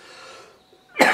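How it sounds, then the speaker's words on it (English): A person coughs once, a single sharp close burst at the end, after a stretch of quiet. "Oh, excuse me. Getting over a bit of a cough."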